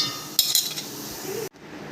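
A utensil clinks and scrapes against a bowl while egg and baking soda are stirred into a maida batter, a few quick metallic taps followed by soft stirring, then an abrupt stop.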